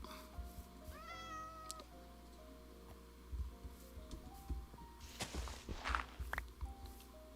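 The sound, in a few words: pig grunting in the video game Minecraft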